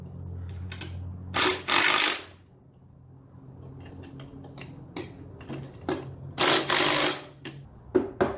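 Wrench work on the top mount bolt of a 1985 Honda CR250 motocross bike in a barn: close, dry mechanical clicking and ratcheting, with two louder bursts of rapid clicks and scattered single ticks between them. A low hum sits underneath.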